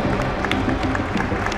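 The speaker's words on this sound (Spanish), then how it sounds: "Un aplauso para ellos" A studio audience at a Guatemalan TV news program applauds, giving a brief, moderate patter of many hands under a faint murmur.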